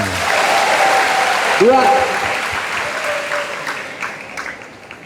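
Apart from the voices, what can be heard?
students applauding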